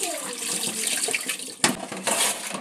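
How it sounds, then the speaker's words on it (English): Kitchen tap running water over raw skinless chicken being washed for Jamaican barbecue fried chicken, a continuous close splashing stream that briefly surges louder partway through. "There's some more water. Let me get rid of all the water."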